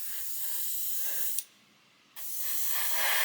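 Airbrush spraying Japanese MRP model paint gives a steady, close hiss that breaks off for under a second partway through, then resumes at full strength.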